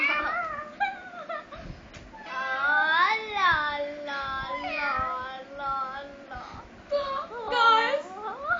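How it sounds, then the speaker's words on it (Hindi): A cat meows repeatedly up close, with drawn-out, rising and falling whiny cries in a fairly continuous sequence, loud and clear with faint background rustling. "कितनी सुंदर क्यूट सी बिल्ली है"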